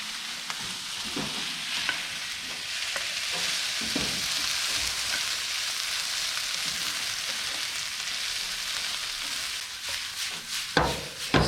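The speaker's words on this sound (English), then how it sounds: "Once you put the garlic and tomato in with the onions, you want to fry it off about 2 minutes" Garlic, tomato and onions fry in a pan with a steady close sizzle, while a utensil stirs and scrapes against the pan in irregular strokes, growing busier near the end, no voices.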